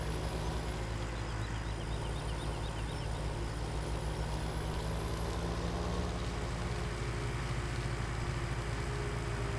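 A farm truck driving off-road around a field edge in Farming Simulator 17, a steady, moderately loud engine drone with a low rumble that continues unbroken, with no talking.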